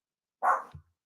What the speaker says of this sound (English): Forgive my dog